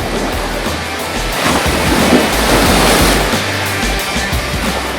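Sea waves wash onto the beach at Berdyansk, a loud, continuous surf roar swelling and receding, with low wind buffeting the microphone and no voices.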